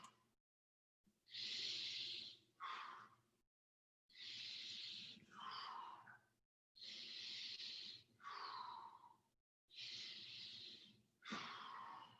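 Rhythmic heavy breathing during an exercise workout, four long forceful exhales with shorter inhales between, evenly spaced with brief silences, close and breathy with no talking.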